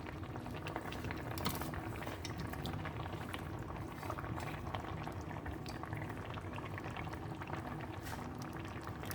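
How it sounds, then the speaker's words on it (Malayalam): Tamarind water for a Kerala-style prawn curry with ground coconut bubbles in a pot at a steady boil, a continuous soft rolling burble heard close and alone. "ഏകദേശം ഒരു 2 മിനിറ്റോളം നമ്മുടെ പുളി വെള്ളം ചേർത്തതിന് ശേഷം തിളച്ചിട്ടുണ്ട്"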